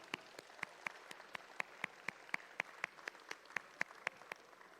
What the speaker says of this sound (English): can we give a quick round of applause for all the alumni and mentors who make today's event possible?